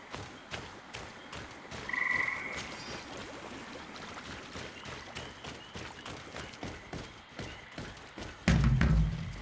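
Frogs croak repeatedly in a swampy outdoor area of the video game Greedfall, a steady rhythm of low croaks over ambient water, with a heavier thud near the end.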